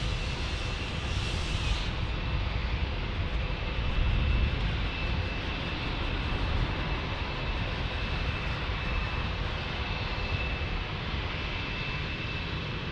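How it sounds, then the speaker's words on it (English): A Gulfstream 650 business jet rolls along the runway at San Diego airport, its engines producing a steady, fairly loud roar that swells briefly partway through and holds without talk. "Look at that Gulf Stream that just landed, crossing the way."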